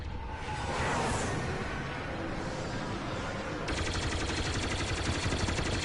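Hero Eve Valkyrie's cannon fires in Star Wars Battlefront, a long-range, near-instant-hit shot. It comes as rapid, continuous bursts mixed with whooshing game effects, heard loud and steady with no talk over it.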